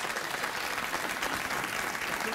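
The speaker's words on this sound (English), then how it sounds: "That, that's when you break into spontaneous applause?" Studio audience on a late-night talk show bursts into steady, dense applause, a continuous wash of clapping throughout with no voices standing out.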